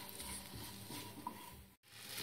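Potatoes coated in achaari spices fry in a pan with a low, steady sizzle and faint crackle, quiet and continuous, broken by a brief dropout near the end.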